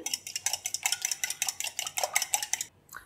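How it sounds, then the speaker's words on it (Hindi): Two eggs beaten in a bowl, with a quick, steady run of about twenty bright clinks as the utensil strikes the bowl, ending abruptly. "अब इसे हम अच्छे से फेंट लेंगे।"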